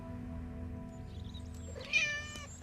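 A domestic cat gives a single short meow near the end, moderately close, over a steady low background hum.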